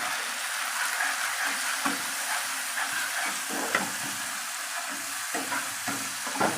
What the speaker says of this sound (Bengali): একটু ভেজে নিই লাল লাল করে।